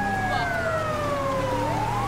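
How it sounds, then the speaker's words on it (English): Two police car sirens wail at once in GTA 5 during a snowy sheriff patrol chase, their pitches sliding and crossing steadily over a constant engine rumble, loud and close throughout. "Police car chasing a police car, both with lights and sirens."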